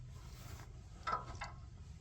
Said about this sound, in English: tighten her up a little bit, like so